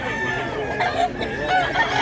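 A rooster crows once, a strained, wavering call sounding through background noise at a fighting-cock sale.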